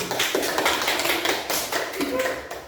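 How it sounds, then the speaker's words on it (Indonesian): Classroom clapping for a student group during a lesson: a few seconds of close, fairly loud claps from a small group of children, with voices mixed in underneath. "tepuk tangan untuk kelompok 1"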